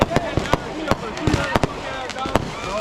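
Fireworks bursting outside at a Fourth of July party: a rapid string of sharp cracks and pops, irregular and fairly close, with crowd voices and shouting underneath.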